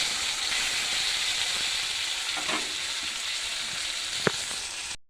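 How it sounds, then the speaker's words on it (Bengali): Flat beans with a little salt fry in a pan, giving a steady loud sizzle and hiss throughout, with a couple of brief scrapes from turning them near the middle and end. "ঝোলের শিমগুলো ভেজে নিচ্ছি, ওর মধ্যে অল্প নুন দিচ্ছি।"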